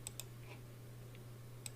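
A few sparse, soft clicks of keys tapped on a computer keyboard while a name is entered, the taps faint and spaced out over a steady low electrical hum.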